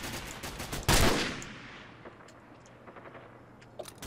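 Gunfire in the Call of Duty 4 video game: a single loud, sharp shot cracks out and rolls off in a long reverberant tail, followed by a few faint clicks and small distant pops. No one talks.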